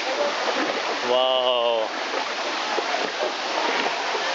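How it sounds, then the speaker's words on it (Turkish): Steady broadband rush of a waterfall at Gizli Kent Waterfall, heard up close as continuous rushing water, with a brief spoken exclamation over it. "Şimdi sanırım şelaleye çok yaklaştık."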